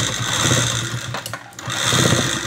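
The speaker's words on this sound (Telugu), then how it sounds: "ఇక్కడ ఈ లైనింగ్ మీద ఒక కుట్టు వేసుకోవాలి" A sewing machine stitches along fabric lining for cross straps, whirring steadily up close in two runs with a short break between them.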